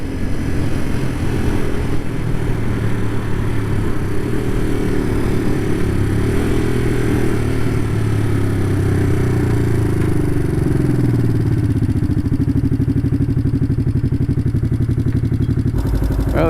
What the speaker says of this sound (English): the 1969 Honda CL350. Running pretty good